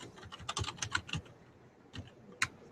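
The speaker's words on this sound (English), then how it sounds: "I'm gonna try typing in." Bursts of typing on a computer keyboard, quick clusters of sharp key clicks followed by a pause and then a few isolated taps, close and fairly clear with no voices.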